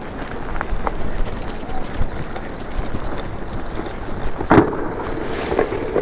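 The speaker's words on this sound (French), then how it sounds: "Ah, ça y est, ça se remet bien à pleuvoir." Steady rain with gusting wind outdoors, a continuous broadband wash with buffeting wind noise on the microphone and a brief louder gust near the end, no talking.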